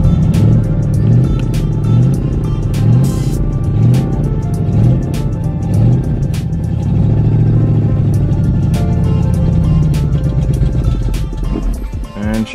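A carbureted 5.0 V8 swapped into a junkyard Mustang cranks and catches, settling into a loud, steady idle with a lumpy, rhythmic low rumble close by, with no choke installed.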